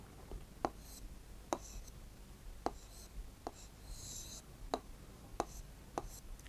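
Pen strokes on paper as an Urdu word is written by hand, a series of short, sharp scratches spaced about a second apart, close and quiet, with a few brief rustles between them.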